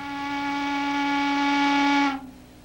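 A loud, sustained factory steam whistle at a wire company in York, Pennsylvania, blows a steady harmonic tone for about two seconds, then cuts off abruptly, leaving a faint hiss.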